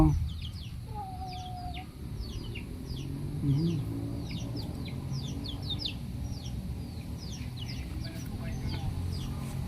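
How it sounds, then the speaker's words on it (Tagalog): Geese honking and calling in scattered bursts outdoors, with farmyard background noise and faint voices nearby. "Ito mga gansa."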